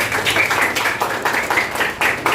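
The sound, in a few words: classroom applause for a student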